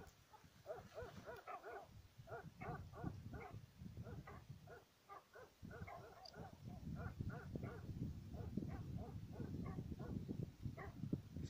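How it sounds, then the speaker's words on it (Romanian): Many sheepdogs barking and yelping at a distance around a sheepfold, overlapping in a continuous chorus with a low background rumble. "S-aud și câinii."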